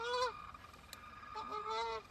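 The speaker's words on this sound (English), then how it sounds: "Do you guys hear them geese?" Geese honk overhead outdoors at night. A couple of bursts of nasal calls pass close by, with a short quiet gap between them.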